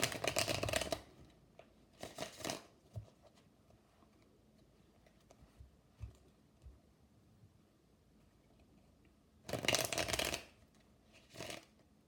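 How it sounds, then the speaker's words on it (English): Tarot cards being shuffled in a few short riffling bursts, close and soft, separated by quiet pauses with faint small taps. "I'm using a third deck to clarify"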